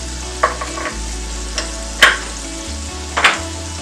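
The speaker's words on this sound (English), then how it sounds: "I'm going to go ahead and add a couple teaspoons of oil. Add my yellow onions." Yellow onions going into a little oil in a pan, with a low steady sizzle underneath a few sharp stirring scrapes and clatters spread across a few seconds.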